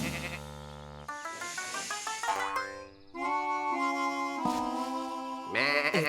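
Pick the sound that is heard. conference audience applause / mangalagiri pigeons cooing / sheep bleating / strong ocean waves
sheep bleating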